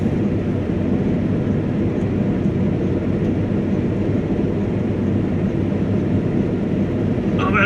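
Claas Lexion 670 Terra Trac combine harvester driving across a field on laser pilot, a steady, loud low engine and machinery drone continuing without a break and with no talk.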